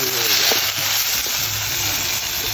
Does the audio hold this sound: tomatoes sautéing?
yes